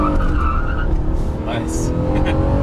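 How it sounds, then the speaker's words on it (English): A tuned 2014 Honda Accord V6 on 91-octane fuel is floored in sport mode, its engine droning steadily and loudly while the pitch climbs through the pull, with tire noise and a voice briefly over it. "Throw it in sport mode and floor it."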